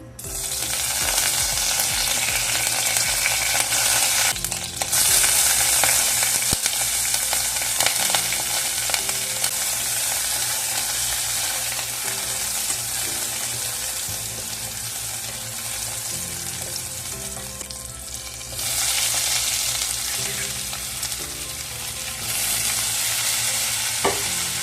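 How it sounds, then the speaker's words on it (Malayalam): Onions sauté in an open pressure cooker for chicken curry, a loud continuous sizzle broken by repeated stirring scrapes against the metal pot, with no voices. "അങ്ങനെ ഇതാ നമ്മൾ കുക്കറിലിട്ട് വഴറ്റി ഉണ്ടാക്കാമെന്ന് വിചാരിച്ചു."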